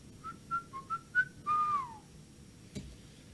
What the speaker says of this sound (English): I believe I just whistled a Go-Go Power Ranger.